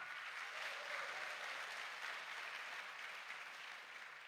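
A church congregation claps steadily through a sermon break, a dense, even wash of applause at moderate volume that holds without pause and eases slightly toward the end.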